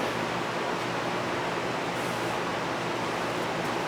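Engine oil pours steadily into a V-Strom 1000 motorcycle during an oil change, making a continuous, even rushing gurgle that holds at a moderate level with no break and no talking.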